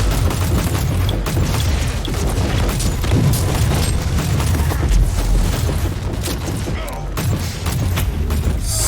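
Rocket launcher trap explosions in the Warhammer 40,000: Inquisitor – Prophecy video game, a dense stretch of heavy booms and mechanical clatter running continuously, with a voice faintly underneath.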